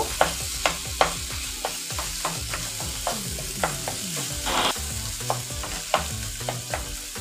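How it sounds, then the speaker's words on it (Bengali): A spice paste with large tomatoes and salt fries loudly in a pan, a constant close sizzle punctuated by regular scraping and knocking strokes of a stirring spoon against the metal. "মশলাটাকে ভালো করে ফ্রাই করে নিব"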